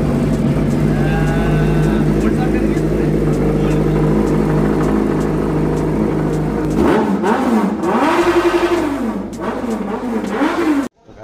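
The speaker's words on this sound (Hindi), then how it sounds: "भाई की बाइक तो स्टार्ट हो गई, अपनी बाइक भी स्टार्ट कर ले" A Yamaha R15 motorcycle engine idles steadily and then revs in several rising and falling bursts near the microphone before cutting off abruptly.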